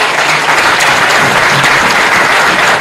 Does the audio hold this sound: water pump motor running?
no